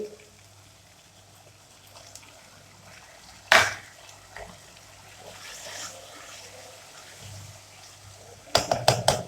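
Roughly one small cup of water is poured into masala frying in a pan with chicken, giving a sudden short splash and sizzle, then a quiet simmer and a second cluster of clattering bursts near the end.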